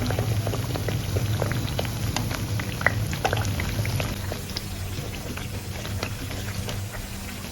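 Sweet suji tikki frying in ghee over a very low flame, a steady dense crackle with scattered sharp pops running throughout, moderately loud and close, with no voices.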